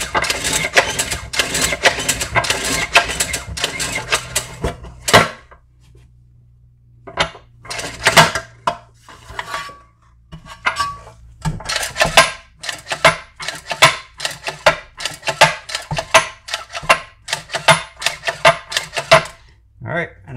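The recoil starter rope on a Craftsman two-stage snow blower is pulled again and again and slips back in, making repeated clattering, ratcheting bursts with short gaps. It is close and sharp.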